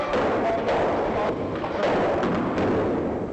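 Rocks tumble and thud continuously as a special effect on a film set, a dense, loud rumble of impacts with no clear gaps.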